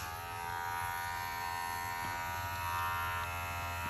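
A cordless hair clipper's motor, powered by a Tomb45 ECO battery, hums in a steady, close buzz with no pauses and nobody talking.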